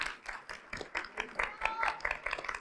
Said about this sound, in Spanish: Un fuerte aplauso para David